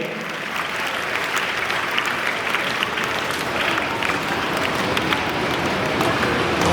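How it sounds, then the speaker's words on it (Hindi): Children at a parents' and grandparents' honouring ceremony in Gujarat applaud together, a dense, steady wash of clapping from a crowd that holds evenly throughout without a clear three-beat pattern. "3 ताली का सम्मान देंगे सब बच्चे।"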